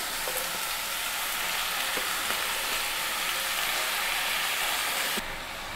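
Chopped, washed spinach hits hot oil with pumpkin and whole-spice tempering, giving a steady, close, loud sizzle that runs unbroken and softens slightly at the very end.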